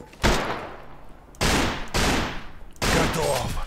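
Gunfire in the shooter game Anarchy Wolf's Law: four sharp, loud shots at close range, each with a rumbling decay, spaced roughly half a second to a second apart.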